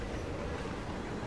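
A train rolls along in the video game Hitman 3, a continuous dense rumble of rail noise that stays loud and even throughout.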